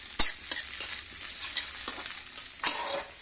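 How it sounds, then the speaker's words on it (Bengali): Sidol, a dried fish, frying in a pan over a village clay stove, giving a steady close sizzle with a couple of sharp louder bursts as it is stirred, no talking. "এখন এর মধ্যে আমি শীতলটা দিয়ে দেবো।"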